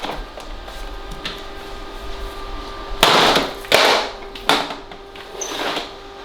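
A Vax vacuum cleaner being smashed and chopped apart, heard as three loud, sharp cracking blows in close succession after a quieter stretch of faint knocks and background hum, with no talking.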